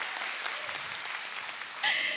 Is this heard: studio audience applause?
yes